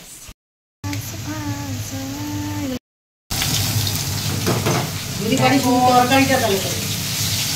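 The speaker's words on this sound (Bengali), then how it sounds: "রান্না হচ্ছে কুমড়ো ভাজা হচ্ছে" Pumpkin frying in a pan, crackling and sizzling steadily with stirring noises, interrupted by brief silent gaps, while a voice hums or speaks over the cooking.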